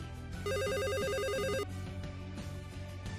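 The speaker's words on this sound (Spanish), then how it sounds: "Su teléfono suena y él lo toma y se pregunta qué aparato es" An electronic telephone ringtone trills in a fast warbling burst for about a second, loud and close, over a low background of music and ambient sound.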